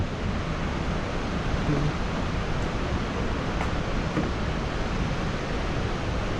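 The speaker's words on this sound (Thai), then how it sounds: "น้ำตกคอนพระเพ่ง" Khone Phapheng waterfall in southern Laos roars as a steady, broad rush of falling water, loud and unbroken throughout, with no voices.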